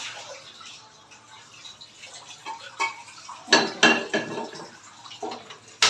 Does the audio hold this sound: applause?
no